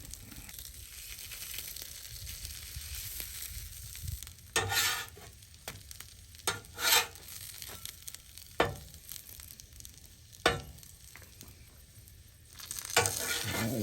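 Sausages fry in a pan with a steady, faint sizzle, broken by a few louder spattering or stirring bursts, with no voices.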